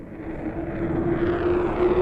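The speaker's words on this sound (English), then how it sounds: "Play that jet. Is that a growler?" A Growler military jet passes overhead as a steady, muffled roar with a droning tone, played back as a recording and slowly swelling in loudness with no talk.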